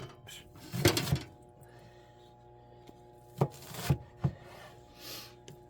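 Fresh onions are chopped on a board in a few scattered bursts of knife strokes, with quiet rubbing and handling sounds between them and a low hum underneath.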